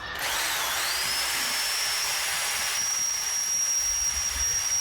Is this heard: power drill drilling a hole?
yes